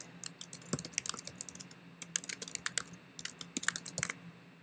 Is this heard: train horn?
no